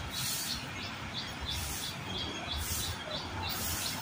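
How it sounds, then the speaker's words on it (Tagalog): Birds chirp in an alpine garden with flowers, short repeated tweets coming at a regular pace over a steady background hiss, moderately close. "Uy, may ibon oh. Yun. May ibon ha."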